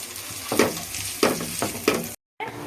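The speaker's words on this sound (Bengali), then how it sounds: "লাল হওয়া পর্যন্ত লাল হয়ে আসা পর্যন্ত ভেজে নিব" Pieces of rooster chicken brown in a hot pan, hissing steadily while three heavier stirring scrapes surge through the sizzle, followed by a brief total silence and the frying resuming.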